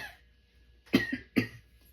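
Two sharp, close coughs in quick succession from a person after a short quiet pause, with a brief throat-clearing quality and no talk.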